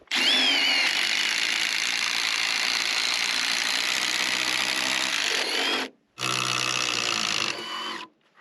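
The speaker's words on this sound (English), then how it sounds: "the drill bit is not long enough to go through all of the material" A power drill with an extended bit bores through shed material in a loud, sustained high whine, stopping briefly before a second shorter burst, close and alone.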